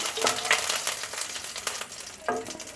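Whole spices tempering in hot oil for a mushroom dish, giving a steady close sizzle and crackle throughout, with a couple of brief louder spits and stirring scrapes.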